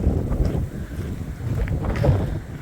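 Steady wind gusting across a sailboat out on the water near the snow-capped Pyrenees, a loud rumbling buffet on the microphone with no talk.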